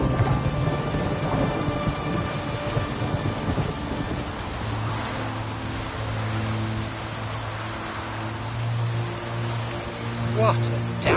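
Heavy rain pours steadily with rumbling thunder in a Witcher 3 thunderstorm, a constant dense wash of noise with deep low rolls, and a brief sharp crack near the end; a voice speaks over the storm.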